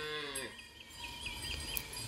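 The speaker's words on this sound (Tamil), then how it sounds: "இப்போ நம்ம பார்த்துட்டு இருக்கிற மாடு" A Rathi cow at a cow shelter in Srirangam gives one close, drawn-out moo that fades off, followed by quieter ambient sounds and faint distant noises.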